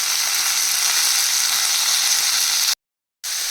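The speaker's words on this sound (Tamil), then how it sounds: "பச்சை மிளகா லேசாக ஃப்ரை ஆகிட்டு இருக்கும்போது புதினா சிம்மில் வச்சு போட்டுருங்க" Green chillies and mint leaves frying in a pan give a loud, steady hiss and sizzle close up, broken by a brief silent gap near the end before the sizzling resumes.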